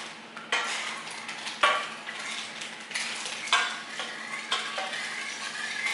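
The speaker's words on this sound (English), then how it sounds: "So now we just mix it." Spoon stirring a freshly boiled Jello mixture in a pot while making Jello shots, giving repeated close scraping and swishing strokes with soft clinks, steady and moderately quiet, with no talking.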